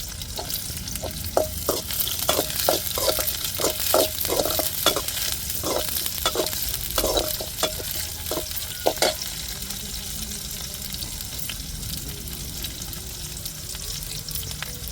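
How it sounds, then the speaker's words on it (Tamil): Sliced big onions and small shallots fry and sizzle in a pan while a spoon stirs them in a quick run of scraping strokes, then the steady hiss continues alone with no voices. "இப்போ வெங்காயமும் பெரிய வெங்காயமும் கட் பண்ணதை சேர்த்துருக்குறோம் கொஞ்சம் பொடி வெங்காயமும் சேர்த்துக்கிடுங்க"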